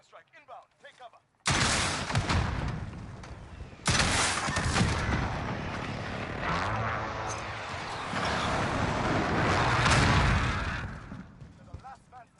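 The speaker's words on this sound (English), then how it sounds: "Enemy precision airstrike inbound." A precision airstrike in Call of Duty Modern Warfare 2019 hits hard and loud, two heavy blasts followed by sustained roaring explosions and gunfire that swell and fade, with brief voices before it lands.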